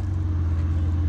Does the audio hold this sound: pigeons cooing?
no